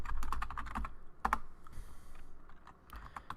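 Rapid bursts of keystrokes clatter on a computer keyboard while Cisco switch configuration commands are entered, with a few brief pauses between runs of typing.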